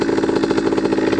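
A two-stroke motorcycle engine runs during wheelie practice, a loud, close, steady buzzing drone with a fast pulsing rhythm and no voices.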